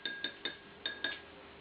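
Pigments being mixed in a small dish, giving five light, ringing clinks spaced unevenly over under two seconds, close and fairly quiet with no voices.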